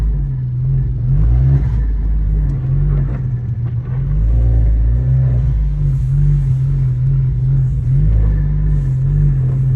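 A car on summer tires revs and accelerates on a snowy winter road, its engine droning loudly and steadily throughout with a low rumbling hum and slight pitch swells, no voices over it.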